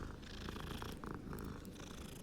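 A cat purring in the video game Hogwarts Legacy, a loud, close, continuous rumbling purr with a steady pulsing texture that fills the whole moment, with no voices over it.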